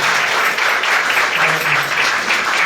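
A church congregation claps hands loudly and continuously, a dense steady wash of applause from many people filling the hall with no break.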